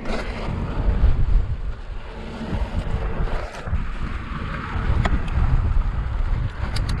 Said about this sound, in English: Got some wind today, which makes it a little more sketchy.